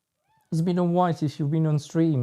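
A house cat meows loudly and close, several drawn-out tonal meows in quick succession, with a person talking at the same time.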